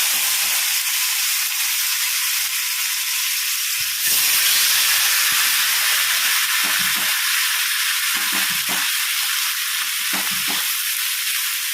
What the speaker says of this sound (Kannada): ಲೋ ಫ್ಲೇಮಲ್ಲೇ ಫ್ರೈ ಆಗಲಿಕ್ಕೆ ಬಿಡಿ ಎರಡೇ ಮೀನು ಹಾಕಲಿಕ್ಕಾಗೋದು